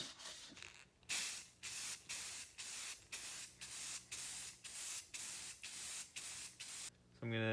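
Aerosol spray can coating a three-piece wheel with paint, heard as a series of about nine loud, close hissing bursts in steady rhythm, each lasting roughly half a second, with no talk over them.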